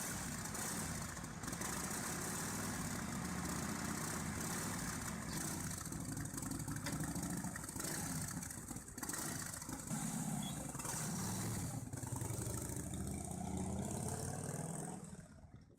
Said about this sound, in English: Harley-Davidson's 1946 Knucklehead, a 61 cubic inch V-twin, produces 40 horsepower with overhead valves, a post-World War II icon starting up outside a vintage dealership.